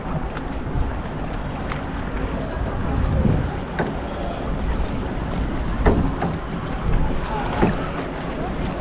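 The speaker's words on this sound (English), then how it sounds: "Some nice paddling, Lisa, some nice paddling." Paddling on a small boat for hire in Valencia, Spain. Wind noise and water swish run throughout, with soft paddle splashes at intervals, and faint voices sit in the background.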